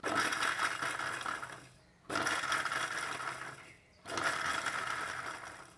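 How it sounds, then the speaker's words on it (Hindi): A mixer grinder coarsely grinds chillies for Rajasthani mirchi kuta in three short whirring pulses of about two seconds each, separated by brief pauses, loud and close. "मिक्सी मैंने थोड़ा अपना दरदरों पीस ले"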